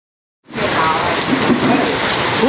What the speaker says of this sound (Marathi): फुल हवा पाऊस खूप जोरात चालू आहे वांगणीमध्ये.